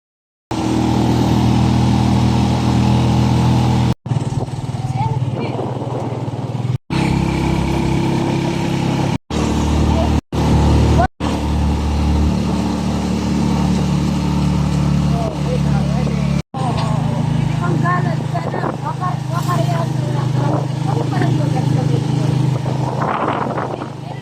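A motorized tricycle heavily loaded with belongings travels the road from MacArthur to Tabon-Tabon, Leyte, its engine a loud, steady drone that runs almost the whole way, broken only by a few brief cuts.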